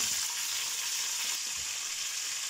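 Flat beans with red and green peppers stir-fry in a pan, giving a steady, bright sizzling hiss throughout with no voices.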